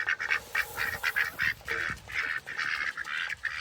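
Several ducks quack continuously and loudly nearby, overlapping calls in a busy chorus.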